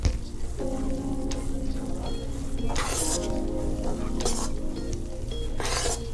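Kimchee noodles with toasted sesame seeds are stirred in a hot pan, a continuous close sizzle broken by a few louder scraping sweeps of the utensil against the pan.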